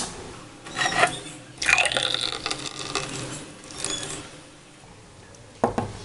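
Watermelon apple smoothie poured into a glass, heard as several short bursts of gurgling, splashing liquid at close range with quiet pauses between them and no talking.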